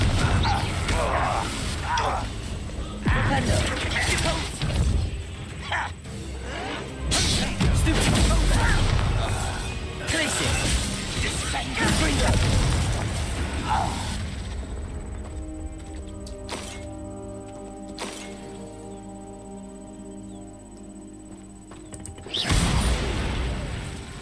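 Loud magical blasts and crashing impacts from a Confringo spell erupt during a Hogwarts Legacy fight, followed by mechanical creaks and rattles as the noise fades to quieter tones, with a final burst at the end.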